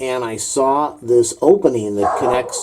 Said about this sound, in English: the rescue dog barking in the background